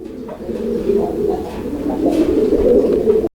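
Pigeons coo steadily and close by on a farm, a continuous layered murmur of several birds with overlapping soft calls that swell slightly toward the end before cutting off abruptly.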